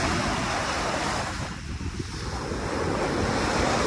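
Surf washes steadily onto the Manila Bay shore near Dolomite Beach, a loud, continuous roar of waves with wind buffeting the microphone and no talking.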